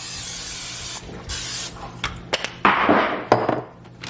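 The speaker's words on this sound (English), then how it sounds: "Spray some of my olive oil." Several hissing bursts of an aerosol olive oil spray, some long and some short, close by, with faint clicks and rustling between them.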